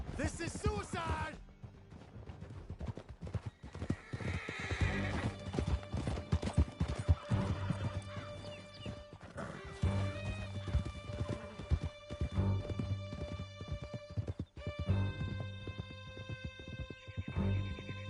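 Horses galloping in Red Dead Redemption 2 as riders flee through a canyon, with a rapid, steady clip-clop of hooves under music and shouted voices throughout.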